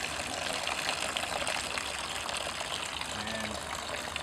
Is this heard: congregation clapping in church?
no